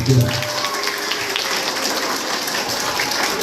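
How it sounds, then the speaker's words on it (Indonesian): Students at a school orientation applaud together, a short burst of loud, dense clapping heard close with a faint voice at the start. "Tepuk tangan semuanya"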